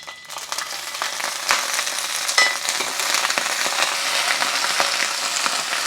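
Bok choy stir-fries in about a tablespoon of oil with chicken bouillon in a frying pan, giving a loud, steady sizzle with scattered crackles and pops close up, with no voices.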